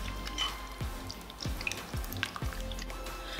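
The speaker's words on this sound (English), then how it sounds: "Give it a good stir." Shrimp cocktail with the juice of three lemons being stirred in a bowl, giving soft, wet sloshing with a steady run of small liquid clicks and drips at about two per second, close and fairly quiet.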